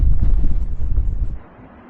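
Gusts of wind outdoors at a wilderness fishing spot batter the microphone with loud low-frequency rumbling for over a second before dying down to a quieter hush, with no talking.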